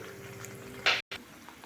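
Puri frying slowly in oil over a low flame, a steady soft sizzle with a brief scrape or clatter near the end, close and fairly quiet.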